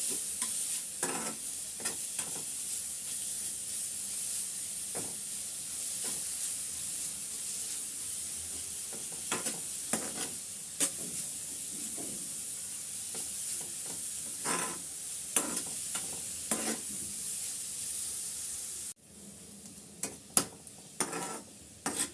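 A coconut and date-palm jaggery filling is stirred and cooked in a pan over a full flame, with a steady bright sizzle and hiss under repeated scraping strokes of the spoon, close and fairly loud throughout, with no talk.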